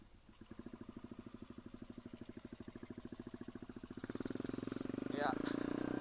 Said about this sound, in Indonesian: Motor ini basicnya Jupiter MX tahun 2006.